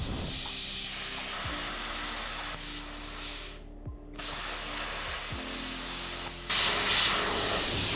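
Metal being cut with a power tool while fabricating a custom rolling frame for a Subaru Impreza 2.5 RS, a steady hissing, grinding roar that holds for several seconds and grows louder and brighter near the end.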